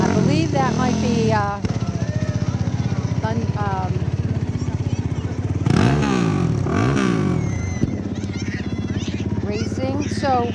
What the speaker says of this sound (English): we have a couple of new ATVs